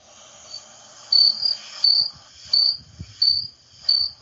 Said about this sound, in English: I was just playing crickets there, if you couldn't hear.